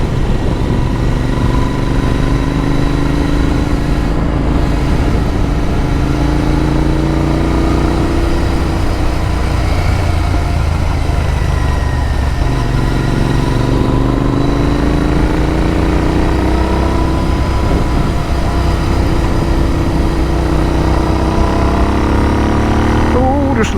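Royal Enfield Interceptor motorcycle engine idling through loud aftermarket exhaust cans, a steady, close, throbbing burble that holds for the whole stretch with a slight swell midway.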